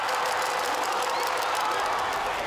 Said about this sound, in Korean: 페이커 이상혁이 상대를 완벽하게 제압하자 고척돔이 함성으로 가득 찹니다